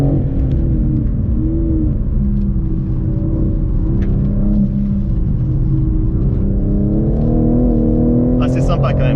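BMW M3 G80 accelerating on a race track, its engine droning loudly and climbing in pitch near the end, heard from inside the car beneath someone talking.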